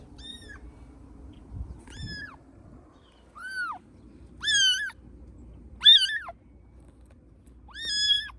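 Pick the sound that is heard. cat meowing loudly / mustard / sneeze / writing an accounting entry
cat meowing loudly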